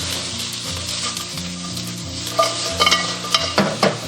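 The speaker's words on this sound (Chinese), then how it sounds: "炒至冰糖化开，然后变黄色，我们下入这个排骨，翻炒均匀。" Pork ribs being stir-fried in melted rock sugar over low-to-medium heat, with a steady close sizzle and intermittent scraping, clattering strokes of a spatula in the wok, no talking.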